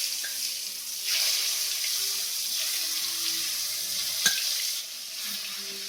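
Papad frying in hot oil for a Bengali khichuri feast, giving a steady, fairly loud crackling hiss that runs the whole time, with one sharp clink near the end.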